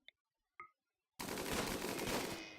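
Sustained machine gun fire from RimWorld erupts after two short clicks and a beat of silence, a loud rapid continuous burst lasting over a second.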